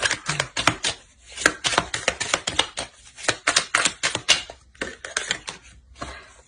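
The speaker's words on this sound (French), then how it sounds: "Et je mélange le jeu." A deck of tarot cards being shuffled by hand, a rapid, uneven run of close, crisp riffling and flicking clicks that continues steadily for several seconds with brief pauses.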